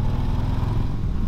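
Motorcycle engine during a night ride, a steady loud low rumble with dense mid-frequency clatter throughout the short stretch, no voices present.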